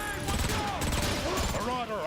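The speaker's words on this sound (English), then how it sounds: "this is the burst rifle" Burst rifle from Transformers: Fall of Cybertron firing in rapid, continuous bursts, loud and dense, with synthetic whines and sweeping tones layered over the shots.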